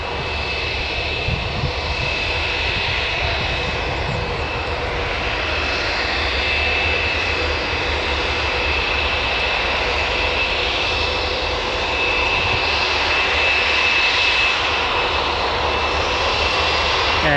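A KLM airliner's jet engines roar steadily at Newcastle Airport, a broad, sustained rumble and whine that holds for a long stretch with no pause.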